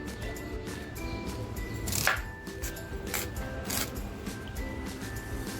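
A knife cutting an onion into large slices on a board, a series of soft, irregular chopping taps close by, with one sharper knock partway through and no talking.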